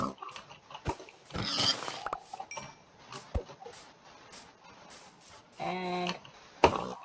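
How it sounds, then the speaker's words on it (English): Pig grunts and squeals come from a Minecraft game, short sharp bursts scattered among clicks and game sounds, fairly faint overall with a louder honking burst near the end. "A pig!"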